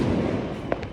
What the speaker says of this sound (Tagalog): already 1 a.m. but still a lot of fireworks